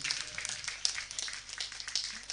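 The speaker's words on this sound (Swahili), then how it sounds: "Makofi tena kwa Yesu tafadhali" Congregation applauds inside a church during a funeral service, with a burst of scattered clapping from many hands that rises and falls unevenly over a couple of seconds.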